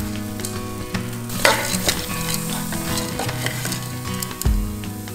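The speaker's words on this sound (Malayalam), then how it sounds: "2 ടീസ്പൂൺ നെയ്യൊഴിച്ച് കഴുകി വൃത്തിയാക്കി വെള്ളം വാർത്ത് വെച്ച കടലപ്പരിപ്പ് ചേർത്ത് പച്ചമണം മാറുന്നത് വരെ വറുത്തെടുക്കാം." Chana dal being stirred and roasted in ghee inside a pressure cooker for a payasam, giving a steady close sizzle with repeated scraping stir strokes and no talk.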